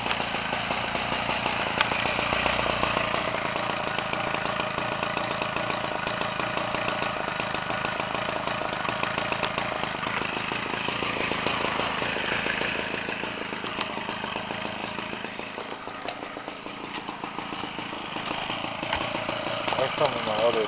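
A Homelite Textron 25cc two-stroke RC engine, new version, with a Zama carburetor and a new diaphragm pump, runs continuously with a buzzy, steady drone close to the microphone, easing slightly in pitch toward the end.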